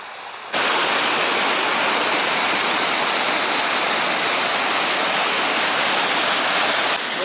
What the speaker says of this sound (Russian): Вот есть искусственный водопад.